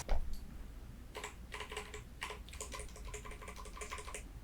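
Typing on a Royal Kludge RK987 mechanical keyboard with black switches: a close, quiet flurry of keystrokes in uneven bursts, with a few pauses between runs of clacks.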